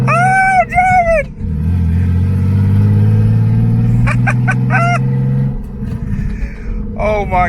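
Turbocharged BMW E36 pulling away on a street, a steady low engine drone building and holding for several seconds, close and loud, with someone talking briefly before and after.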